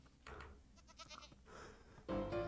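A goat in the Minecraft video game bleats several times in quick succession, close and clear, and ends with a louder, longer bleat.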